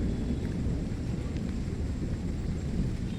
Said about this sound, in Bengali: মেঘ একভাবে এক নাগাড়ে ডাকছে, কোনো থামার সিন নেই বা মাঝে কোনো গ্যাপ নেই।